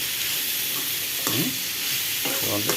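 Papaya pieces and onions stirred in a pan for papaya curry, with a steady frying sizzle and two distinct scraping stirs of a spoon against the pan, no talking.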